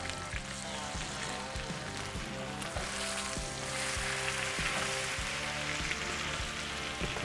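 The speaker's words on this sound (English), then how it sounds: "I just kind of push it around this steak, kind of just trying to coat that whole thing in butter" A steak fries in butter in a pan, giving a loud, close, crackling sizzle that carries on steadily while it is pushed around, with no voices over it.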